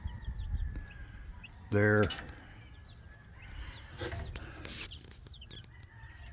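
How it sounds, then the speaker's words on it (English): Backyard chickens, including three game hens, make a loud single squawking call amid scattered soft clucks and faint bird chirps, with a person speaking briefly nearby. "we got 3 game hens. I'm not sure what kind of game chickens those are"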